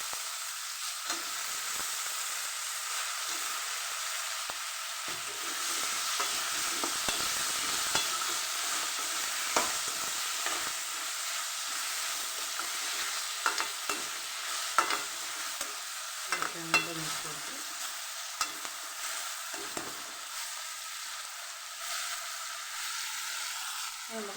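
Potato pieces sizzle steadily in a pan of green chicken gravy while a spoon stirs and scrapes through them, giving a continuous close frying hiss broken by repeated small clinks.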